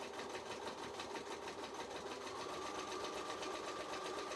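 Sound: sewing machine stitching a jelly roll mat

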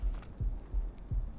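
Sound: heartbeat in ARK Ascended video game

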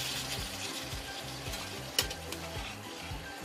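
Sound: water added to frying potato and spice masala

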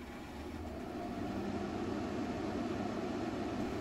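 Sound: Frigidaire window air conditioner running on high setting

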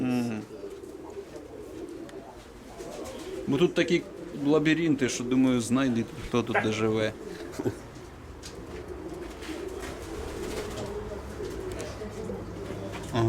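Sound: pigeons cooing in an aviary

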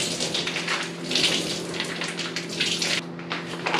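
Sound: water being drained and squeezed out of thawed frozen food

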